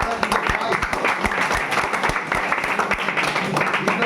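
Students in a classroom clap during a lesson, a steady dense patter of many hands close by that runs throughout, with speech-like voices mixed in.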